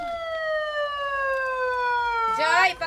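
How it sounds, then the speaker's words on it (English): A cyclone warning siren sounds during an evacuation drill in Barangay Tagkip, a steady harmonic wail slowly falling in pitch, loud and close, ending in a burst of broadband noise. "This warning siren means a cyclone is approaching and residents must leave."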